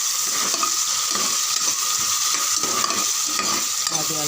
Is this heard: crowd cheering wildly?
no